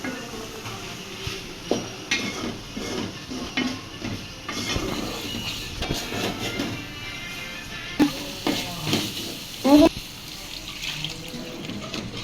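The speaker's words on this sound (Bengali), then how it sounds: "কষানো হয়ে গেছে এরকম চিংড়ি মাছটা দিয়ে দিছি" Shrimp fry in a pan with spices for a village dish of taro cooked with shrimp. A light, steady sizzle runs under clinks and scrapes of utensils against the pan, with occasional louder knocks.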